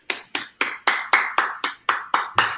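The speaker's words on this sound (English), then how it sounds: "That's me clapping for Ferrari." Hands clapping nine times in a fast, even rhythm. Each clap is sharp and close, with no other sound between them.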